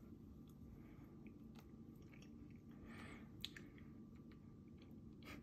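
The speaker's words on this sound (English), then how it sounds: "Nice seed crunch." Close, quiet chewing of a ripe Cavaliere fig, soft squishy bites with small crunches from the seeds, a steady run of mouth sounds and no talking.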